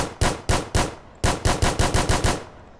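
Bursts of gunfire from the new UMP submachine gun in the game Firefight, loud and close: a few spaced single shots, a brief pause, then a rapid string of about seven evenly timed rounds.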